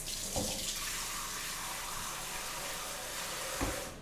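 A kitchen tap runs steadily as something is rinsed under it, a close, continuous splashing rush of water with a couple of brief clatters and no talking.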